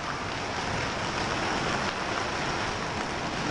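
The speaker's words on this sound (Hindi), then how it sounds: "कम समय में इतना पत्थर, इतनी तेज बारिश हमने पहली बार देखा है।" Heavy rain mixed with falling hailstones in Panchavati, Nashik: a dense, steady roar of drops and stones striking surfaces, loud and constant throughout, with no talk.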